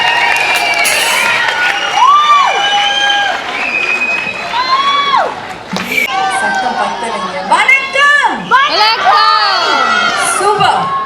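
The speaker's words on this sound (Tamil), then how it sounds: "அப்கோர்ஸ் உங்களோட நிறைய கைத்தட்டல்களோடு அவங்க வெல்கம் பண்ணுவாங்க" An audience at a Pongal celebration in Seychelles welcomes singers onto the stage, loud cheering, whoops and excited shouts from the crowd, with some clapping buried in the noise and voices rising and falling throughout.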